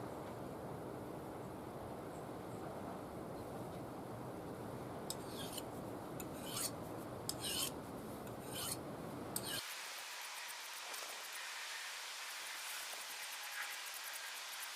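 A handheld sharpener rasps along the edge of a BPS DBK bushcraft knife in repeated short scraping strokes, close and fairly quiet, with a lower rumble under the first part that drops away partway through.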